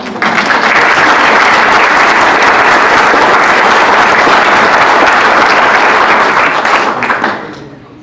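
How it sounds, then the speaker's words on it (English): An audience claps steadily for Bruce, a US Air Force veteran of eight years, at a Huntsville event, producing a loud, full wash of applause that holds for several seconds before tapering off. "I think that that deserves us to clap for him right now"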